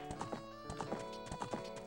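Horse hooves clip-clop in the video game The Legend of Zelda: Ocarina of Time, a steady galloping rhythm of close, crisp hoofbeats played over ongoing game music.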